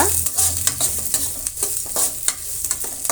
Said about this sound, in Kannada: ದಪ್ಪಕ್ಕಿರುವ ಈರುಳ್ಳಿ ಹಾಕ್ತಾ ಅದು ಕೂಡ ಫ್ರೈ ಆಗಲಿ